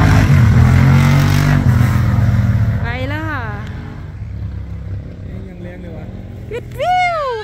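A caravan of cars arrives to race past a fish-pond garden, engines rumbling loudly and revving up close, then fading and returning, while a woman chatters excitedly over the traffic.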